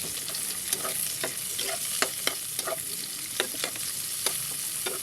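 Onions and ginger fry in a pan for a Filipino adobo dish, with a continuous sizzle broken by repeated sharp scrapes and clicks of a spatula stirring at an uneven rhythm.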